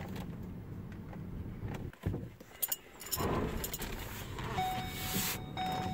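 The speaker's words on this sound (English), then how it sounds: "The only noise you actually hear is the noise of the tires going down the road." A quiet Ford Focus Electric driving on a road, with a soft, steady tire hiss and rumble and a few light clinks and jingles inside the cabin.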